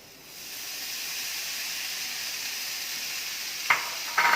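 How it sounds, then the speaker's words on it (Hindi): Steady sizzling hiss from a hot pan of sautéed vegetables as boiled millets go in for millet fried rice, a continuous loud fry noise with a couple of sharp clinks of a utensil near the end. "अब इसमें ये बॉइल्ड मिलेट्स भी डाल देंगे।"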